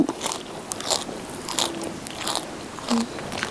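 Close, repeated crunchy bites and chewing of spicy Thai seafood papaya salad eaten outdoors, crisp crackling snaps scattered over quiet background noise, with no talking.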